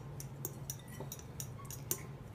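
Dry ingredients for paleo biscuits are worked into batter in a bowl, heard as faint, light clinks and ticks of a utensil against the bowl, spaced in a loose rhythm over a low hum.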